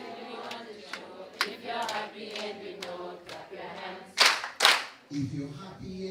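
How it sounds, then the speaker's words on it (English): At an International Women's Day celebration, an audience sings along to a happy clap-your-hands song, with a pair of sharp, loud hand claps landing close together in the middle of the singing. "If you're happy and you know, clap your hands."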